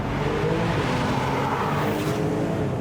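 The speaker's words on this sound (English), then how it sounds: "All the pops and bangs that you could ever want out of a car." A 2020 Porsche 911 Turbo S Cabriolet engine runs steadily and close, its low exhaust note and rumble holding even loudness throughout, with no distinct crackles or bangs standing out.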